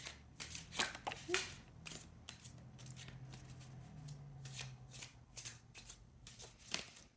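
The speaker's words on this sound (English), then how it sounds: "That is one of our cards, but we're not done shuffling yet." Oracle cards are shuffled in the hands with repeated crisp riffling bursts and soft slides over several seconds. The sound is close and fairly quiet, and faint speech comes through in between.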